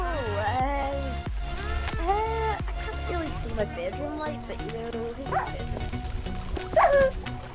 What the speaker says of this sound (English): Hi dog. Is this your dog?